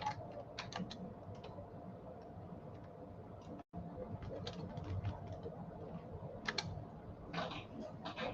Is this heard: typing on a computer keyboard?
yes